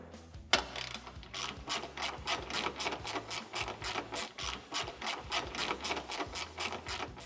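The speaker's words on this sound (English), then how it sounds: "Next, we can remove these 2 10mm bolts on top of the lamp." Rapid clicking of a ratchet wrench loosening 10mm bolts on top of a 2016-or-later Toyota Tacoma headlight, a steady run of close, crisp ticks with no talking.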